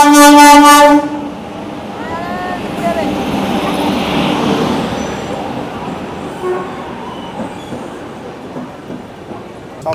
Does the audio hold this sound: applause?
no